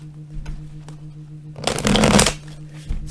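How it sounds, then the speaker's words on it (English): Tarot cards shuffled by hand during a reading make one loud, dense riffling burst of about a second, framed by quiet soft card handling and a steady low hum. "I don't like the noise from shuffling, but I like that you actually see me shuffle"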